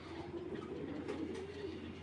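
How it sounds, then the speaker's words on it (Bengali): A male racing pigeon coos while held in the hand, a soft low throaty murmur running continuously close by. "দেখছেন হাতের মধ্যেই নর ডাকবে এরকম নর"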